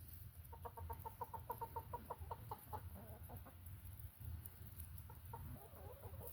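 Backyard chickens cluck in a quick, rhythmic run of soft calls while walking in real snow outside their coop for the first time, faint and near, with a steady low background hum.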